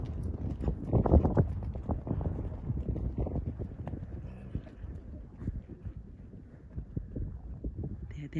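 Hooves of rescued wild mustangs clop unevenly on the ground, louder at first and then thinning out, with wind buffeting the microphone.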